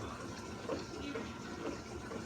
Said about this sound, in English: Yeah, the water is filling up.